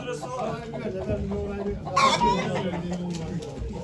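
A rooster crows briefly at a chicken auction in Ankara, heard under a busy background of clucking fowl and a voice calling bids.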